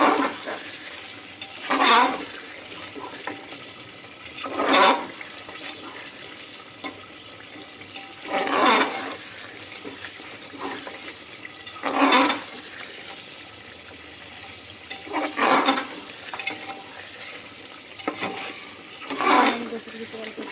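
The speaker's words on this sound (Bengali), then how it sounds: "অল্প করে গরম করে রাখা পানি দিয়ে দিলাম" Warm water is poured into beef curry cooking in a pan, giving repeated short bursts of hissing sizzle every few seconds against a quiet background, with a person speaking between them.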